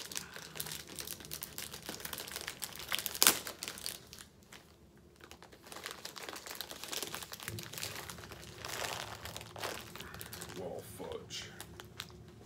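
A crinkly plastic snack package of Heat Wave Blistering Apple Pie Chex is torn and wrestled open up close, giving irregular crackling and crunching bursts with one sharp snap early on, and some speech in between.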